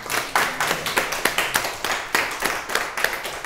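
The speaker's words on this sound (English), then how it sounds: "Can we give them all a round of applause?" An audience at a panel talk on career changes into interior design, held at Coombe Lodge, gives a round of applause: distinct, crisp hand claps from a modest crowd in a fairly even, lively patter.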